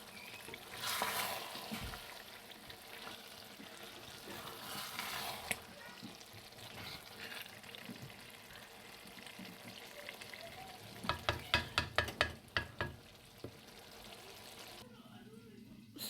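Aloo keema frying in oil while being stirred in a pan, a steady low sizzle with bursts of scraping and clattering stir strokes toward the end, no talking.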